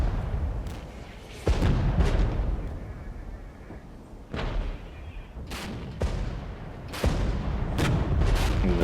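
Artillery fire in the Regiments wargame, several heavy booming shots landing at irregular intervals, each a sharp loud blast with a rumbling tail, over a low battlefield background.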